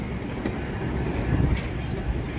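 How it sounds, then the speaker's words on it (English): A passenger train rolls past in Toronto, giving a steady, close, low rumble of rail cars that holds throughout. "This is a passenger train"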